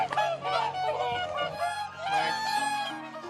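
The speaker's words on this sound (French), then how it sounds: "je le partage avec 150 cygnes chanteurs" A flock of around 150 whooper swans wintering on Hokkaido calls in loud, overlapping honking trumpets nearby, with the calls rising and falling continuously.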